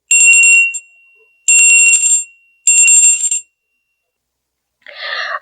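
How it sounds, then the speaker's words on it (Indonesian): A small hand bell is rung three times in quick bursts of bright, ringing, metallic jingling, loud and close, with a short pause between each burst and a brief rustle at the end. "Madam Suki akan membunyikan lonceng agar bersemangat dong"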